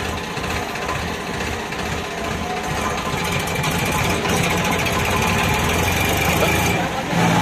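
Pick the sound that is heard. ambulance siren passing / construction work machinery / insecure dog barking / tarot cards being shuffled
construction work machinery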